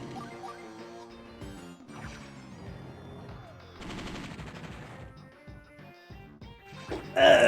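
Attack sounds from units in the Advance Wars Dual Strike video game: rapid, punchy game-effect bursts of gunfire and crashing impacts over layered synthetic music, ending in a louder, bright, crackling blast.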